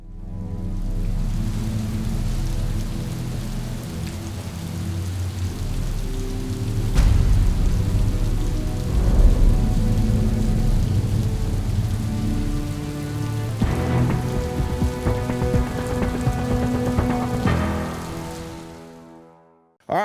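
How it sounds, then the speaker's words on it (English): Heavy rain pours down outdoors in a steady dense hiss, with faint thunder rumbling beneath, continuous for the whole stretch before fading out at the end. "It's raining like a cow peeing on a flat rock right now"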